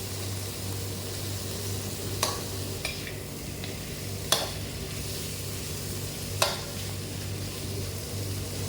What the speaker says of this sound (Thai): แล้วค่อยนำลงมาผัดนะครับ เราก็จะผัดไปเรื่อยๆ จนกุ้งสุก